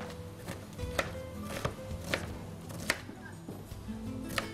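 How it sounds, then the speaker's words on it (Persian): An onion is chopped with a knife on a board for a meat cake, giving sharp, evenly spaced knocks about once a second, close but quiet over faint room noise. "من پیازو خورد میکنم"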